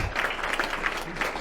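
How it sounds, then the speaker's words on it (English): Short burst of crowd applause at a People's Party of Canada fundraising rally in York, Durham, honoring Maxime Bernier, a dense, moderately loud patter of many hands with faint murmuring. "Give it a round of applause for Maxime Bernier"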